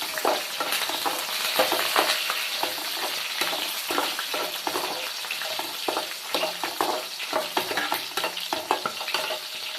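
Onions sautéing in a pan for Tamil fish curry (meen kulambu), a continuous close sizzle and crackle of frying oil broken by scraping stirs, with no talk.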